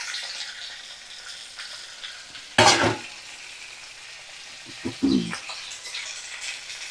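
Vegetables for a fish curry (kohlrabi, a piece of potato, chopped tomato and green chilies) are stirred in a hot pan: a steady low sizzle broken by two sharp scraping bursts of the spoon, close and fairly loud, with no talking.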